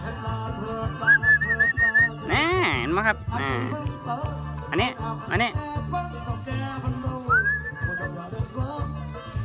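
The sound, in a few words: whistling to call cattle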